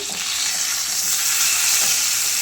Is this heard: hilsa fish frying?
yes